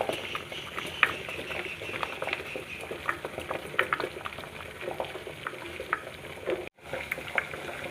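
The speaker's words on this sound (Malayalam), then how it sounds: "വെളിച്ചെണ്ണ തിളച്ച് വരുന്നുണ്ട്" Coconut oil heats in a pot for homemade hair oil, bubbling with scattered soft pops and patter over a low hiss, close up, with one brief dropout near the end.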